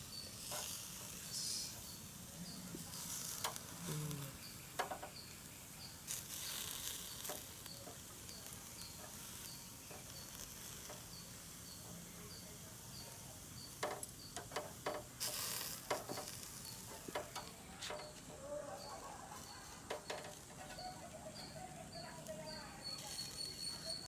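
BBQ chicken cooking at home, with a faint continuous sizzle and occasional sharp clinks and scrapes of turning the pieces, while people talk over it quietly.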